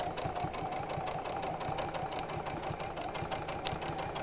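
Sewing machine running a small stitch along a wavy quilting line in trapunto work, giving a fast, even mechanical whirr with a steady rapid pulse of needle strokes, close and moderately quiet, with no voices.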